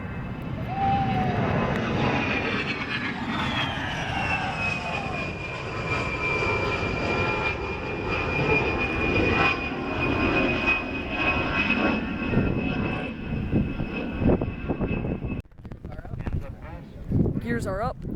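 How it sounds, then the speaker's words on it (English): An A-10 Warthog jet with its landing gear up makes a low pass at an airfield, its engine roar swelling and holding steady, with a high whine trailing off, while a person talks over it. "There is another pass going on with the 8-10 Warthog."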